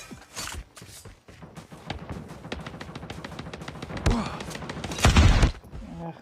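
Bursts of rapid gunfire in a Call of Duty tournament match crackle over a busy game soundscape, with thuds and heavier volleys building near the end.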